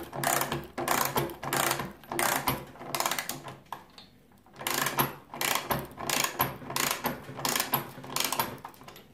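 A Parkside 8-in-1 multi-functional ratchet wrench clicks in quick bursts, its pawl ticking rapidly through each swing, with a short pause midway before the clicking resumes, close and clear.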